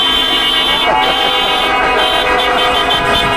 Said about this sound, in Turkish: Yani bu şenlik için korna çalınır bence.